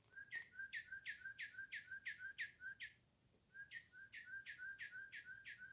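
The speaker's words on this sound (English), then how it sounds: "And this is how the cardinal sounds." A cardinal whistles a run of quick, clear, descending slurred notes in a rapid rhythmic series, pauses briefly, then repeats the same phrase, bright and fairly close over quiet background.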